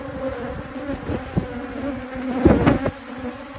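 Angry bees buzz steadily nearby at an apiary, a droning hum that rises and falls as individual insects fly close, loudest toward the end.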